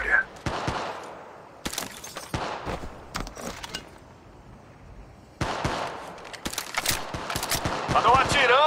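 Gunfire in the Apex Legends video game sounds in rapid, sharp bursts, with dense automatic volleys near the start and end and a quieter stretch between, under occasional talking.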